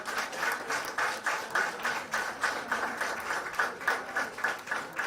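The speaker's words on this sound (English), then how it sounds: "let's end the felicitation function with a big round of applause for all our esteemed guests" Steady applause from an audience honoring guests at a Teacher's Day felicitation for former teachers, a continuous crowd of clapping hands with a slightly pulsing rhythm throughout.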